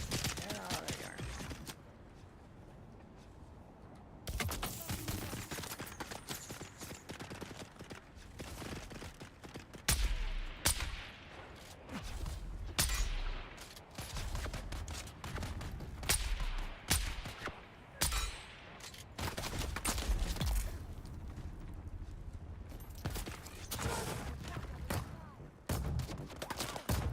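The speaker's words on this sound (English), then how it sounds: "So many bullets flying everywhere." Dense video game gunfire from the Dune game fills the scene, with loud, overlapping rifle and machine-gun bursts and impacts that come in waves, sometimes near and sometimes more distant, and no clear talking.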